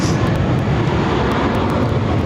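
An Avianca Dash 8 turboprop airliner arriving at Barcelona airport gives a steady, loud, unbroken engine roar that holds evenly from start to finish.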